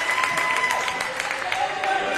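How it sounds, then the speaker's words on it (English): Crowd applause at a partially sighted football match between France and England at the IBSA World Games 2023, a steady wash of clapping and crowd noise running through the whole moment with a commentator's voice mixed in. "He applauds the effort."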